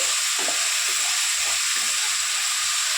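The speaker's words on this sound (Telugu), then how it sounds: "కొంచెం ఫ్రై అవుతుంది నూనెలో చిక్కుడుకాయ అన్నది." Broad beans fry in oil in a covered pan, giving a steady, even sizzle and hiss that runs throughout, close and fairly loud with no talking.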